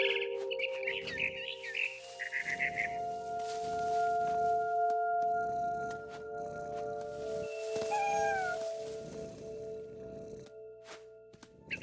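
Cat meows with bird chirps in a game scene from What Remains of Edith Finch, several tonal calls over steady ambient tones and a soft rumble, moderately loud and clear with no talking.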